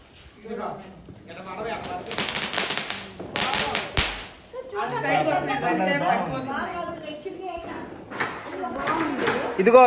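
Firecrackers burst close to a house during Diwali night celebrations, loud cracking blasts with sharp hiss and fizz, followed by crackling and scattered pops while people chatter nearby.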